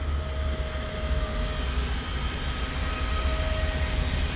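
A Mumbai metro train rumbles steadily with a continuous loud roar and a faint whine, heard from on board or close by, with no talking.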